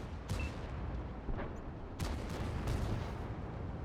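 Tank cannon shots in a tank battle video game: several sharp, booming blasts spaced irregularly over a low rumbling background, fairly quiet overall.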